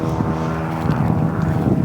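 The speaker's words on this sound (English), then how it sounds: "We do have a plane coming overhead, sorry about that." A propeller airplane passes overhead above a residential garden, a loud, steady engine drone that holds through the moment, with no speech over it.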